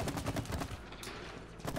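Rapid gunfire from the video game It Takes Two, a fast run of repeated shots pounding steadily for nearly two seconds, dense and loud with brief gaps.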